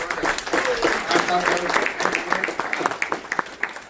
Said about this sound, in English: Have one more round of applause.